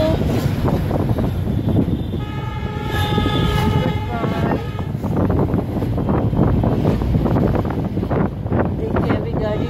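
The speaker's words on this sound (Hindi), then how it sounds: "अभी गाड़ी में बहुत हवा चल रही है" Wind rushes and buffets inside a moving car, a loud, continuous roar with fluttering gusts, and a brief voice-like tone rises partway through.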